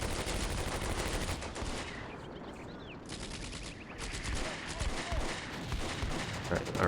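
Artillery shells dropping in Combat Mission: Beyond Overlord, a steady barrage of sharp bangs and rumbling blasts, with a short lull in the middle before the firing picks up again.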